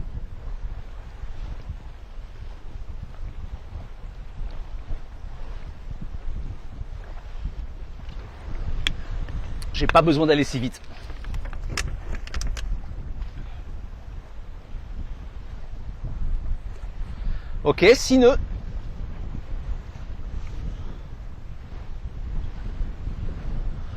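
Wind rises around a sailboat under way, a steady low rush and microphone buffeting alongside water wash, with two brief louder gusts or splashes; a person speaks a few words over it.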